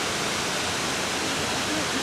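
Nachi waterfall in Japan, 133 metres high, heard from very close as a steady, dense broadband roar of falling water that continues without a break.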